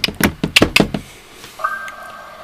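Several sharp beeps and taps sound as an elevator's emergency phone button is pressed, followed by a steady electronic tone starting part way through.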